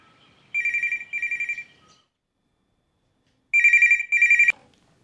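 A telephone rings for an operator-placed teleconference call: two pairs of short electronic double rings separated by a pause of about two seconds, clear and steady in a quiet room with no voices.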